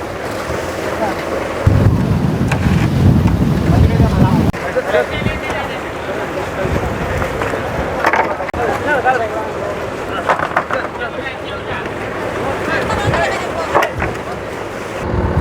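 Strong wind buffets the microphone in rough gusts on a rocking launch boat bound for Analaitivu Island, with rushing water and boat noise underneath and voices talking intermittently.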